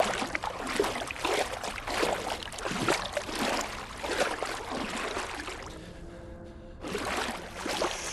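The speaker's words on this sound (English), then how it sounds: "aside from this one section where the water was super sloshy" Water sloshes in the Blair Witch video game: repeated broad splashing surges roll on for eight seconds, with a brief quieter lull near the end and no voices.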